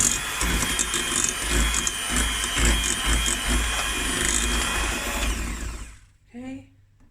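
Electric mixer beating 500 grams of soft butter to loosen it, a continuous whirring motor hum with rattling beaters, cutting off near the end as a voice speaks briefly.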